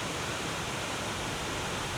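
Ramsey Falls, a waterfall in Alexander Ramsey Park in Minnesota, roars as a loud, steady wash of falling water that fills the whole soundscape without a break.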